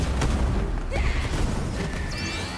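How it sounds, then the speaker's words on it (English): A low booming explosion goes off in the Astral Ascent video game, with rumbling bursts and crackling fire-like debris mixed with bright magical chimes, loud and dense throughout. "So is that just an explosion around me?"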